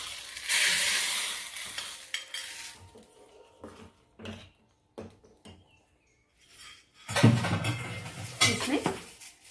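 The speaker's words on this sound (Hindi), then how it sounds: "छौंक लगा दें" Spices crackle and sizzle in hot oil in two loud bursts, tempering for jeera dal, amid clinking of a metal spoon and pan with quieter gaps between.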